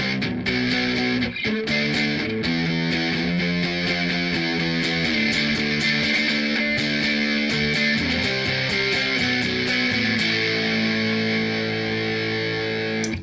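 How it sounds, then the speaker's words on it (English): An electric guitar played through a Pack Rat rat-style distortion pedal on a pedal board rings out in thick, saturated chords and sustained notes, loud and continuous with no gaps or talk. "This is distortion. This is the new one, the rat pedal, the pack rat."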